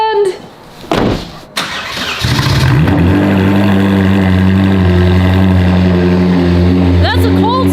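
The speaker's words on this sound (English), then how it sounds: "That's a cold start, so it's extra loud right now" A Ferrari with a one-off F1-style exhaust cold-starts: a few clunks and a cranking burst, then the engine catches and settles into a loud, steady, close idle drone.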